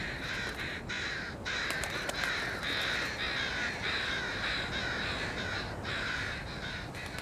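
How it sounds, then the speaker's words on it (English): Crows give harsh scolding alarm caws, a rapid series of loud, repeated calls from several birds overlapping at close to mid distance, with no one speaking. "that bird will produce what we call a scold call. It's an alarm response."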